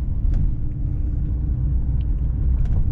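A car rumbles by close at hand, a loud, steady low roar of engine and road noise that holds through the whole stretch without talk.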